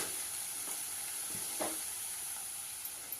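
Onions sautéing in a pan as filling for a maida dosa make a faint, steady sizzling hiss, broken by one or two soft stirring knocks.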